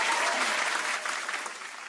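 Applause from a group, a dense close wash of clapping that starts full and slowly fades over a couple of seconds.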